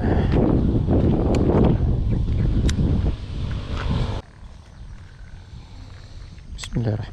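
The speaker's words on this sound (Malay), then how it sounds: "Angin kuat." Strong wind buffets an outdoor cooking spot where a pot is boiling, a loud rushing roar that gusts and then drops off partway through, with voices talking over it.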